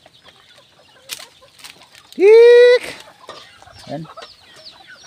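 Chickens on a farm, including a hen with five chicks, give soft clucks and scattered calls close by, with one loud drawn-out squawk in the middle; someone speaks briefly.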